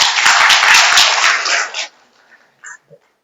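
An audience at an Islamic Sunday-morning study gathering claps for a child, a short, lively burst of applause that tapers off after a couple of seconds into near silence with a few faint stray sounds.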